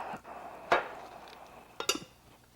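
A quart of part B of a two-part polymer mix is stirred in a container, with a few sharp scraping clinks rising out of a quiet background.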